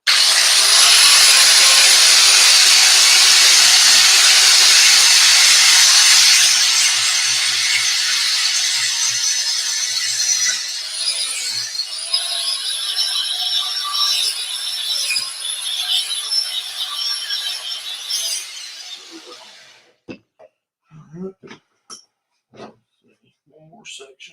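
A wire wheel on a power tool scours a steel chain clamped in a vise, a loud harsh whirring grind that eases and winds down, followed by scattered clanks and handling noises after it stops.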